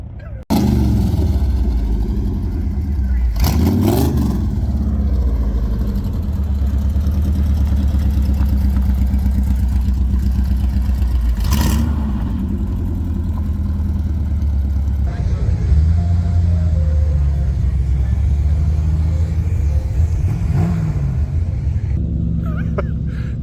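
A small vintage Berkeley car drives along with a steady buzzing, rumbling engine note that climbs and falls as it accelerates and shifts, loud and close from inside the car, with occasional voices talking over the drone.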